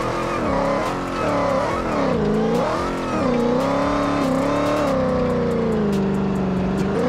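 A 1000-horsepower Dodge RAM TRX slides in the BeamNG Drive driving game. The engine roars loud and continuous, and its pitch rises and falls as the throttle varies, with faint tire noise mixed in and no talking.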